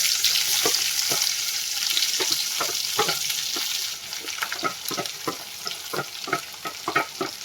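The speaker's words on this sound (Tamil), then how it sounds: "வெங்காயம் சேர்த்து நல்லா வதக்கிக்கணும்." Onions sauté in a hot pan with green chilies for a guava chutney: a bright frying hiss under repeated close scraping strokes of a spatula, the sizzle easing midway as the stirring continues.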